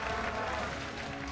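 A large arena crowd applauds and cheers at the League of Legends World Championship, a dense, steady roar with no clear break.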